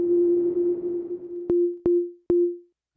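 Synth notes from an Akai MPK Mini Plus with a big reverb, one long sustained tone followed by three short plucked hits, each trailing into a wash of reverb before fading to silence.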